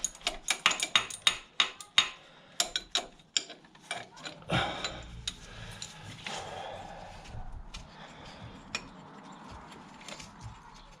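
Ratchet turning a nut and bolt on a 2007 VW Beetle, a rapid series of sharp close clicks in quick strokes, then metallic clatter and scraping, with the ratcheting growing quieter and more scattered toward the end.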